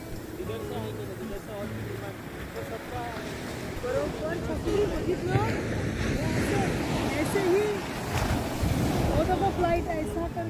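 Sea waves wash onto the shore at Helensburgh with a steady rushing surf and gusting wind buffeting the microphone, while people talk over the water throughout.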